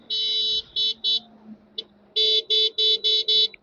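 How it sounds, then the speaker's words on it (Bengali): The electric horn of a 2025 Bajaj Chetak 2903 scooter gives shrill, buzzy beeps up close: three short toots, a pause with a faint blip, then five quick blasts in a row. "হর্নটা একটু শুনিয়ে দিচ্ছি"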